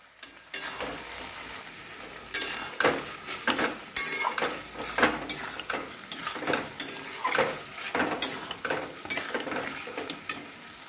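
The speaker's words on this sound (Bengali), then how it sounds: "এবারে আমি এর সাথে আলুগুলো দিয়ে কষবো এবং পেঁপেটাও আমি দিয়ে দেবো।" Potatoes and papaya stirred and fried in a pan for alu pepe posto, with a steady sizzle under repeated scraping and clinking of a utensil against the pan, close and moderately loud, no talking.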